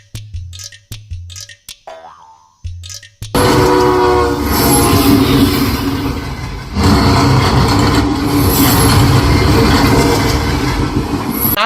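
A train rumbles loudly and continuously past in a scene from the Kannada film UI, with its horn sounding over the roar. A few short, sharp bursts come just before the train noise swells in.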